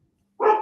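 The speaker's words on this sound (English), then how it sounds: "Sorry about the dog." A single dog bark or short yelp sounds once in the background of a home recording, fairly loud after a moment of near silence, with no speech over it.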